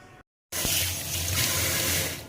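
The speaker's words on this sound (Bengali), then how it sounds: "ভালো করে এবার জল দিয়ে ধুয়ে নেব।" Bitter gourd is washed under a running tap, a loud, steady rush of water pouring close by after a brief silent gap; no talking.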